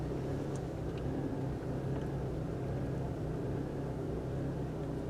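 Steady low engine rumble from a car, continuous and fairly loud throughout with no voices, a constant droning hum.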